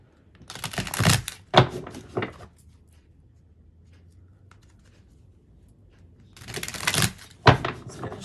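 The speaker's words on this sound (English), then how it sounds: "Just gonna shuffle one more time so we can get a good clean reading." Two quick bursts of tarot cards being riffled and bridged, separated by a few seconds of near silence, close and crisp.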